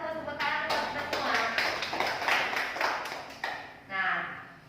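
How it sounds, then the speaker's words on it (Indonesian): Schoolchildren clapping in a classroom during a lesson, a burst of quick, sharp, fairly close claps over about four seconds that then tapers off into a few scattered hand claps. "tepuk tangan buat kita semua."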